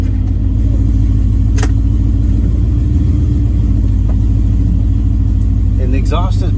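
A car fitted with a swapped Ford Coyote engine on its first drive gives off a loud, close, steady low rumble throughout, with a few brief voice-like sounds rising near the end.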